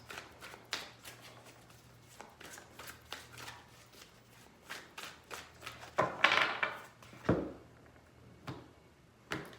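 Tarot cards being shuffled by hand in quick riffling bursts, close and crisp, with soft tapping and a few louder card slaps toward the end.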